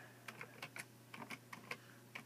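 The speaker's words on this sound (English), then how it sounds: "I'm just typing in my password." Keys tapped on a computer keyboard to enter a password for the game Star Stable Online, a quiet, irregular run of light clicks over a low background hum.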